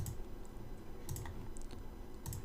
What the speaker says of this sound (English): Oh man, I keep clicking and misclicking here.